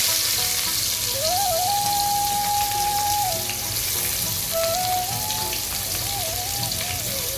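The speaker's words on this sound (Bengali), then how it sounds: "এখন দেব পেঁয়াজ," Onions dropped into hot oil in a pan where fish has just been fried with garlic, for a bottle gourd, prawn and lentil dish, give a loud, steady sizzle with no voices, a faint tone drifting above it.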